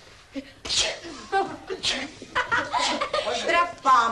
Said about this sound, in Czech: Mně se chtělo za těma kamnama kejchnout.